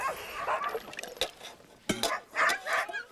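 Sled dogs in an Alaskan dog yard in Huslia bark and yip in scattered sharp bursts, several voices overlapping at middle distance amid general yard noise.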